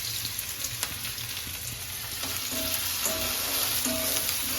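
Homemade pizza roasting in a pan, giving off a steady close crackling sizzle that grows slightly louder, with a few faint clinks and tones over the frying hiss.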